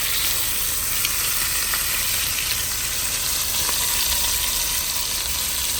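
Pork chops, freshly flipped, sizzle loudly and continuously in a hot pan close up, a dense unbroken crackle with no one talking.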